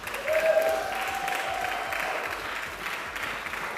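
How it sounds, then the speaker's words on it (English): Applause from an audience for a jury president at a Queensland Open lead climbing competition, a steady wash of many hands clapping together, moderately distant and sustained with no talk over it. "Can we just have a round of applause for Charmaine there?"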